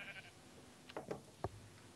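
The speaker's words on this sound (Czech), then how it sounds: "Ovečky tady žije hodně, to je takzvaný, no, Raj oveček." Sheep bleating inside the Minecraft video game, a few short separate bleats around the middle of the clip, fairly faint against a quiet background with no talking.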